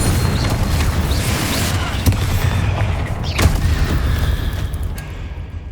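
Confringo blasting spell in the video game Hogwarts Legacy, heard as dense, booming game combat with repeated blasts and bursts, a sharp explosive hit midway over continuous rumbling noise.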